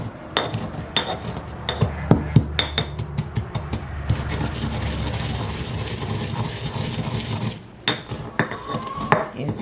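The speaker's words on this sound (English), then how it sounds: "Let's grind this coriander up." Coriander seeds crushed with a mortar and pestle, a series of sharp knocks and scraping grinds close up, irregular and fairly loud, with a steadier rubbing stretch in the middle.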